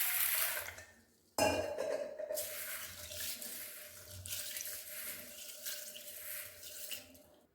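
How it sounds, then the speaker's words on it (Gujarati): Water runs into a pot holding two bowls of mung beans as they are rinsed, a steady tap stream that cuts off briefly then resumes with splashing and light clinks of the vessel. "અને હવે તેને પાણીથી સાફ કરી દઈશું"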